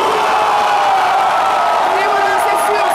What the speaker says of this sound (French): je vais demander au public de se tenir debout et on va faire un hurrah d'acclamation